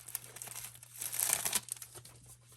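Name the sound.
unwrapping and opening a note card set package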